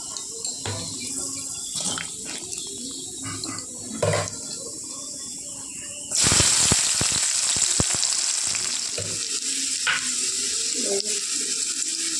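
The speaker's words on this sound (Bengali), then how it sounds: "পেঁয়াজটা বেশি ভাজা হয়ে গেল" Oil sizzles and crackles steadily as onions fry, jumping louder as something is added to the hot pan, with a few metallic clinks and faint background noise.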